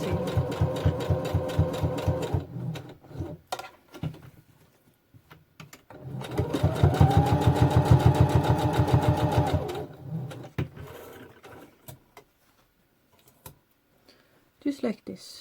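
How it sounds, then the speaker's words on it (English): A sewing machine stitching close along the edge of scrubs fabric, running in two fast rhythmic bursts of needle ticks with short pauses between, while a person talks quietly in the gaps. "I will now sew down around this edge here, just close to the edge"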